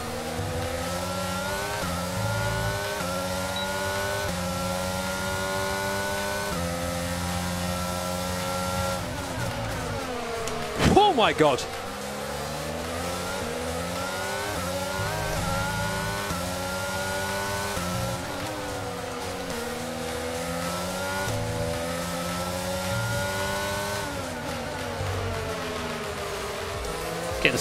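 Formula 1 race cars in the video game F1 22 drone steadily with revving engine pitch that rises and falls throughout. A person exclaims once briefly over the constant racing engine sound.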